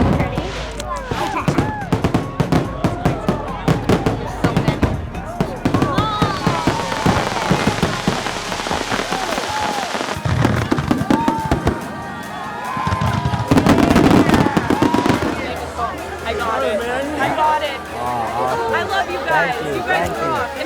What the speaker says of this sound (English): Martha's Vineyard has a really incredible fireworks show